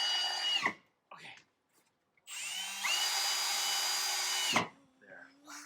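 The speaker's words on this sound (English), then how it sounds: "Get the drill" A power drill drives a screw into a storm door during installation, whirring in a few short bursts before one long sustained run that winds down, close and loud, with a brief voice between bursts.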